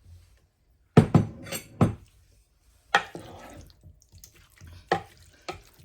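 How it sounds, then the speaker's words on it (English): Chopped peaches and their juice are poured into a Ninja Possible Cooker, with a few close, wet splashes and plops separated by quiet gaps, followed by softer scattered drips and small thuds. "I chopped up some of my peaches and I'm pouring them in. Any juice too."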